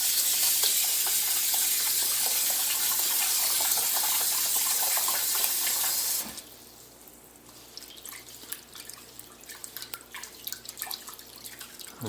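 Rice rinsed in water, first under a loud, rushing tap stream, then swished and stirred by hand with soft splashes and drips, close up and without talk.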